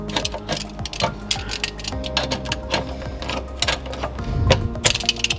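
Screwdriver prying a retainer ring out of a garbage disposal, producing close, irregular metallic clicks, scrapes and clatters in quick uneven bursts, fairly loud with no talking.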